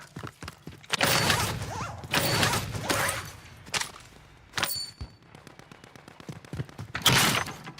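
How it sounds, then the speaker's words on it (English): Video game gunfire crackling in several loud bursts and rapid volleys, separated by short gaps and a quieter stretch of faint mechanical clicks. "There's gunfire in front of us."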